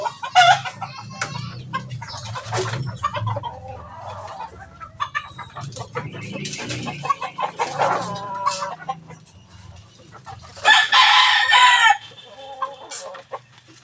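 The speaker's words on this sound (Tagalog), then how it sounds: "magpapakain po ako ng ating mga panabong na manok" Gamecock chickens cluck steadily in a farmyard at feeding time, with several roosters crowing loudly at intervals, one especially strong crow near the end.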